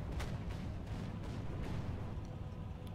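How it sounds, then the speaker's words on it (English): Distant gunfire and cannon booms echo across a tank battle in a War Thunder–style video game, a faint rumbling backdrop punctuated by several sharper shots spaced unevenly, with no talk over it. "Hearing a lot of gunfire."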